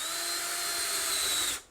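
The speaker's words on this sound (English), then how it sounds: "I'm just going to try to use the drill like I did when it was the solid board." A power drill bores through a resin and poly-stained countertop during a classic camper remodel, whining loud and steady for over a second before spinning down to silence.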